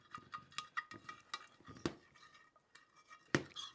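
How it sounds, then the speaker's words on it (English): A utensil scraping the bottom of a pan to lift browned fond while tomato liquid deglazes it, with quiet irregular clinks and scrapes at close range and no talking. "I'm going to deglaze the bottom of that pan with a little bit of the tomato liquid"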